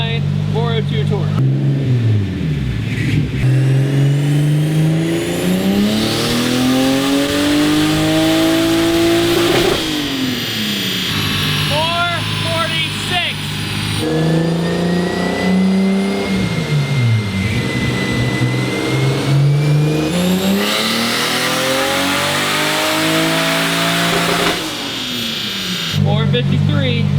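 A Toyota 2JZ engine in a Nissan 240SX, boosted, revs hard on a dyno. Long rising pulls climb to a high scream and then drop, several times over, loud and close, with a turbo whistle on top and a voice talking underneath.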